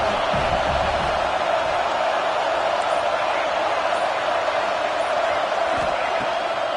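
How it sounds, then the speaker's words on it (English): Football stadium crowd roaring steadily on a third-down defensive stand, a dense, continuous wash of cheering and noise that holds at a high level throughout without letting up. "Decibels rising as the crowd gets behind this defense on third down."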